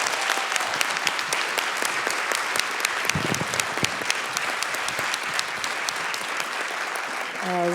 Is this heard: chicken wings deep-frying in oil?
no